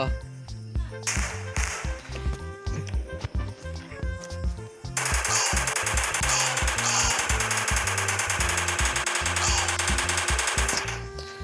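In the mobile game Indian Bike Driving 3D, a machine gun fires at aliens in rapid repeated bursts that start choppy and then run as a loud, unbroken stream of gunfire for several seconds.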